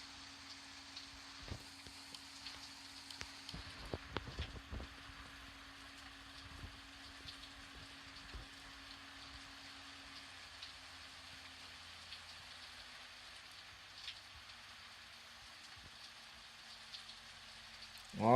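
Light rain patters on a Boeing 737 airliner in Real Flight Simulator, soft scattered drops over a low, steady engine hum, with faint occasional talk.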